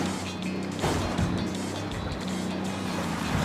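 A car drives in Ghost Recon Wildlands, its engine a continuous loud rumble with a few bumps and knocks along the way.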